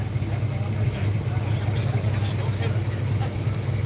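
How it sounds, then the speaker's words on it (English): A pulling tractor at a Cumberland farm-class pull drones past with a steady low engine rumble under crowd babble and nearby talk. "Take a look at this tractor as it goes by."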